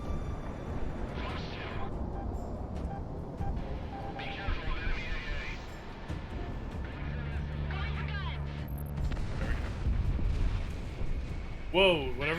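A missile explodes behind a fighter aircraft in the jet combat game Project Wingman, a heavy boom rising out of steady engine roar and game noise, with a sharp burst near the end.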